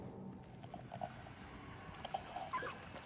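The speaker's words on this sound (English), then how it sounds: "I know I heard a dog" A dog in the Silent Hill 2 Remake video game, heard as a few faint, distant whimpers and short yelps over a low, murky ambient drone.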